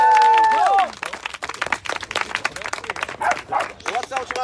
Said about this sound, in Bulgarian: моля вашите аплодисменти за Ивайло Рогозинов